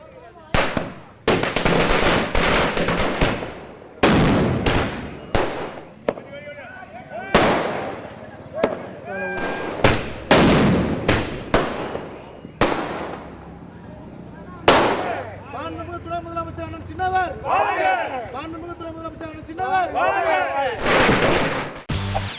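Firecrackers burst in celebration on Chennai streets, a string of sharp, loud cracks and pops spaced irregularly over continuous crackling, with bursts clustering toward the end.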